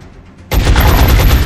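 Loud, sustained automatic gunfire from the strategy video game XCOM Enemy Within bursts in after a quiet half second and continues as a dense rapid stream of shots to the end.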